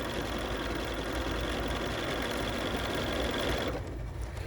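Sewing machine running steadily to stitch over a cord and gather bridal veil fabric, a continuous close whirring hum that stops just before the end.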